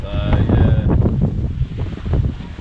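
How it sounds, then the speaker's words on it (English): Strong wind gusts of 30 knots or more roar and buffet the microphone aboard a sailboat over the wash of water, with a brief high whine early on. "Just you get these 30 knot plus gusts come out of nowhere."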